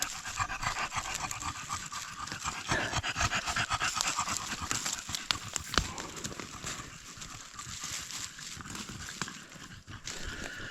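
A dog pants rapidly and steadily after a run on a summer walk in the woods, close to the listener and heard alone with no talk.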